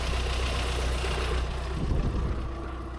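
A freshly repaired car engine idles in a workshop. It hums in a steady, close mid-pitched drone with light knocking and vibration.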